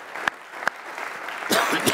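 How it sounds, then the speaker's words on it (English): A church congregation claps hands together: two isolated sharp claps come first, then a burst of fuller group clapping starts in the last half-second, fairly close and loud. "let's give Jesus a hand clap"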